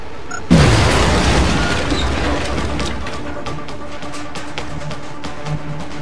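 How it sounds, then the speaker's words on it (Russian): A grenade detonates in XCOM with one loud, close boom that trails into a long rumbling decay and quieter background noise. "Бросаю гранату!"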